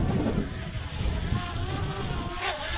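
Wind buffets a Potensic Atom drone in flight, a gusty, rumbling roar mixed with a faint motor buzz that swells and dips over a few seconds.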